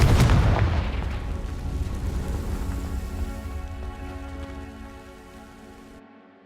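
Fire bursts up with a loud whooshing crackle as a Confringo spell ignites dry vines in Hogwarts Legacy, a strong boom at the start followed by a long crackling roar that slowly fades, with no talking.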